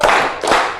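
Classroom of students clapping together in rhythm, two loud group claps in quick succession.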